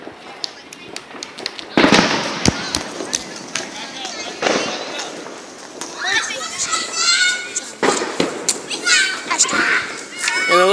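Sharp Fourth of July firework bangs and crackling bursts pop repeatedly, some loud and close, with children shouting and chattering excitedly throughout.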